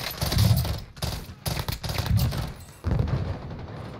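Shotgun and other gunfire in the Warzone video game, several dense bursts of shots in quick succession with short gaps between them, moderately loud.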